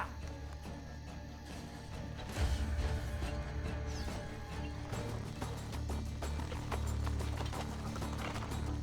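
Horse hooves clopping in the Italian-set video game Assassin's Creed Brotherhood, a busy rhythmic clatter among game sounds, louder after the first couple of seconds.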